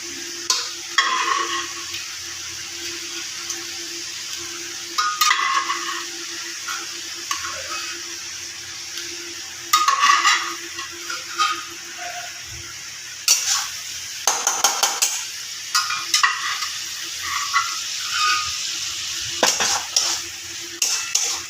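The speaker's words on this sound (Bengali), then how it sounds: "আগে মেটেগুলো আর একটু ভালো করে আমি কষিয়ে নিই" Goat liver sautéing in a spicy paste in a pan for a fiery liver chachchari, with a steady low sizzle and intermittent scrapes and stirring clatter of a spatula against the pan, close and continuous.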